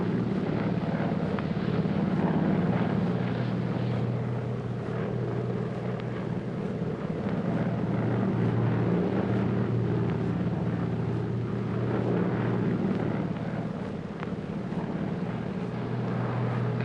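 Airplane engine droning steadily inside the cabin during flight, a low continuous rumble with a constant, even level and no talk.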